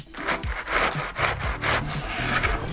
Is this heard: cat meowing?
no